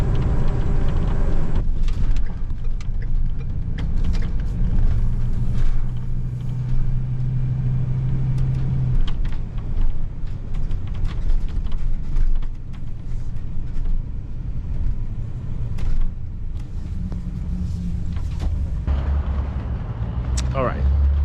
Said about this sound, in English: I'm going to continue driving here and get to my shopping destination